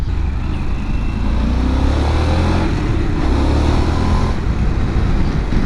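Riding a Pan America adventure motorcycle on a Black Hills road, with the engine's steady roar heavily blended with loud, continuous wind rush throughout.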